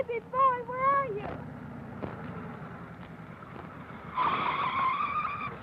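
A big old car speeding off, its engine and tires roaring and squealing, then rising into a louder pitch as it pulls away. A voice speaks at the start.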